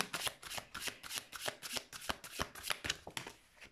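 A deck of mineral and stone oracle cards is riffled and shuffled in quick, crisp bursts, close and continuous, with no talking.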